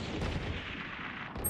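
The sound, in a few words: gunfire in a video game, wall bang shots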